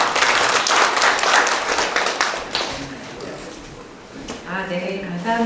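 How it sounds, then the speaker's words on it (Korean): Audience at a forum launch in Mungyeong applauding a professor, a dense burst of clapping that fades over a few seconds as voices and a tonal sound take over. "우리 박 교수님 박수를 한번 부탁드리겠습니다"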